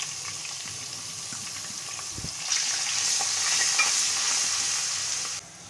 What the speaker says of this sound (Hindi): एक से आध मिनट इसको फ्राई करेंगे।